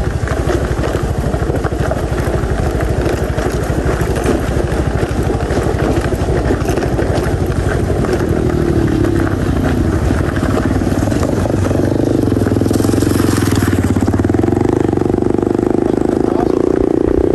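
A motorcycle engine runs steadily at close range on a rural road, its continuous rumble sustained throughout with a rising note near the end.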